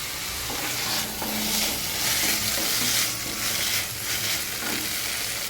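Vallarai keerai (brahmi greens) sautéing in a hot pan, a loud, dense sizzle that swells and eases as the greens are tossed, with faint stirring strokes underneath.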